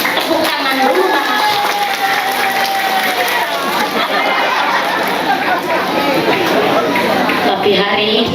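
An audience at an Islamic religious lecture claps together in dense, sustained applause mixed with crowd chatter and murmuring voices, loud and close throughout.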